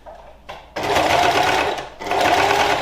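Oilcloth is fed through a sewing machine along a seam for a tote shopping bag, the motor whirring loudly and close in two sustained runs with a short pause between them.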